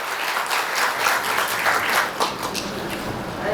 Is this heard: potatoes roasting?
no